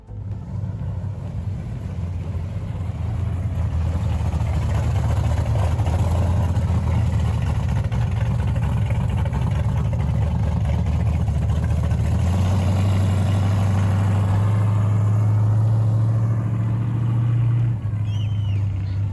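A 1969 Ford Mustang Boss 408 tribute car, a 351 engine stroked to 408 cubic inches, rumbles past at an outdoor car show, its deep V8 exhaust swelling as it nears and shifting pitch as it goes by.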